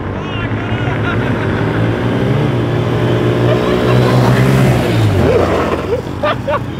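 Honda and Polaris Outlaw off-road vehicles race at full throttle, a loud, steady engine roar with shifting pitch filling the clip, and excited voices shouting over it near the end.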